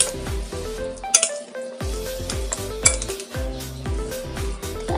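Spoon and grated carrot being stirred into cilok dough in a bowl, with repeated close clinks and scraping knocks against the bowl in a steady stirring rhythm.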